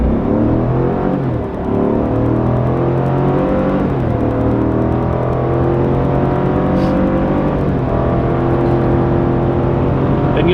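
A 2019 Chevy Silverado 1500 High Country 4x4 with the 6.2L V8 accelerates hard from 0 to 60, the engine roaring loud and close as it climbs through the gears with brief shift dips.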